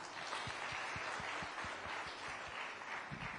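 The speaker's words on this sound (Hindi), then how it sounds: "नाज है तो तालियां बजाइए।" An audience at a news summit applauds in a steady, moderate wash of clapping, with a few sharper, louder claps standing out at a regular beat near the front.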